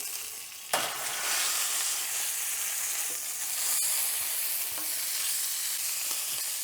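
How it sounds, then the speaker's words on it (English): A ribeye steak's fat cap searing in a hot pan gives a loud, continuous sizzle close by, with an initial burst as the meat meets the pan and a few spatters and scrapes. "I want to sear that fat cap a bit"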